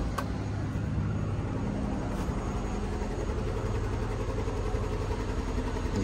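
A Mercedes-Benz SL55 AMG engine idles with a steady, close, low rumble that holds for the whole stretch, with faint irregular pulses suggesting a misfire.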